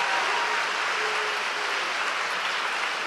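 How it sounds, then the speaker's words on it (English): An audience at a school awards gathering applauds the students, a steady, even wash of clapping that carries on without a break at moderate volume. "please give a round of applause for all the students who have"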